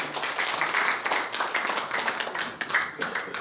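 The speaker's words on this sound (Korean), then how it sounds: "다시 한번 뜨거운 박수 보내주십시오." A lecture hall audience gives warm applause after a talk. Many hands clap in a steady, fairly loud patter throughout, with no clear speech over it.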